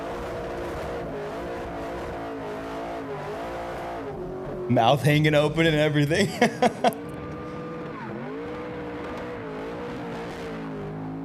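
A custom autocross race car accelerates, revving hard and squealing its tires in a short loud burst, heard mid-conversation while people keep talking over steady background noise.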